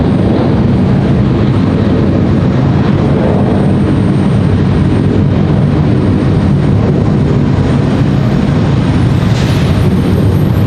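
A private jet takes off from Raleigh-Durham airport, its loud continuous engine roar filling the whole stretch with a dense, steady rumble and no talk over it.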